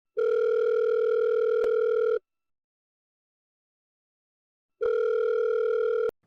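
Ringback tone from a telephone call being placed: two long steady electronic rings roughly two seconds each, separated by a silent gap, loud and clean with no voices.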